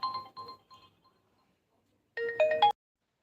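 A mobile phone ringtone sounds for an incoming call: a short, loud burst of bright electronic tones near the end, after a few faint earlier beeps, with no talking over it.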